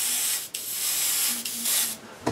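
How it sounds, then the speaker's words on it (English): Airbrush driven by a charged compressor sprays light green paint over a model tank's lower hull in steady, close hissing bursts, with two brief gaps where the spray pauses. "The compressor is charged. The airbrush is ready to go."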